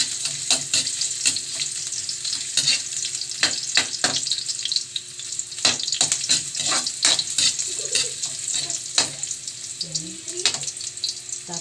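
Tinola cooks in a pan while a utensil stirs it repeatedly, producing rhythmic scraping and clacking strokes over a continuous close sizzle, with faint background voices near the end.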